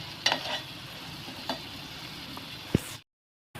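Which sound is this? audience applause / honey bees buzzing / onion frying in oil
onion frying in oil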